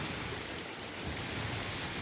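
Steady, heavy rain pours down during a December thunderstorm in southern Ukraine, a dense, even hiss of falling water with no voices.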